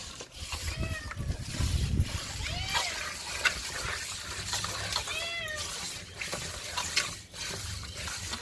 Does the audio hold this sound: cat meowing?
yes